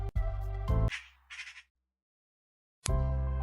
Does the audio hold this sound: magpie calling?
yes